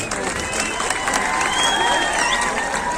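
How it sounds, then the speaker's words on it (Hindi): Crowd applause rises at a political minority rally in Banswada, a dense, steady patter of many hands spread wide through the venue, with voices and cheering mixed in throughout. "इसके लिए मैं हर अफराद से तालियां मारने की गुजारिश कर रहा हूं।"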